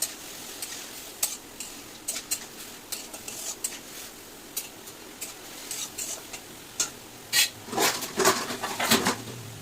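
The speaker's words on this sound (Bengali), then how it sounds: "এবার ভালো করে একটু নেড়ে নেবো।" Water spinach with salt and turmeric turned in a pan, a close series of light clinks and scrapes of a utensil against the metal, irregular and growing busier near the end, over a faint background sizzle, with no talking.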